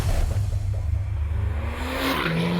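A Porsche 911 Turbo S pulls hard on a timed track lap, its engine note rising steadily through the gears with a shift near the end, loud and close with no talking.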